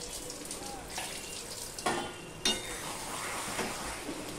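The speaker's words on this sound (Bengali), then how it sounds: "দেখো তোমাদেরকে নেড়ে দেখাচ্ছি কতটা শুকনো হয়েছে" Okra curry stirred in a pan after a splash of raw mustard oil, a steady close sizzle with a few sharp clanks of the spoon against the metal.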